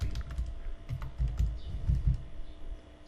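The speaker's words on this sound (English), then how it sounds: "now type your computer password" Keys tapped on a computer keyboard while a password is entered, a run of soft, close clicks in an uneven rhythm over faint background hum.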